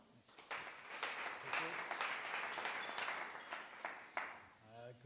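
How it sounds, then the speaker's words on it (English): An evening meetup audience at a UX Beers event in Antwerp claps for the next speaker, a moderate room-filling patter of applause with a few sharper individual claps, tapering at the end as a voice comes in. "So give him a warm round of applause."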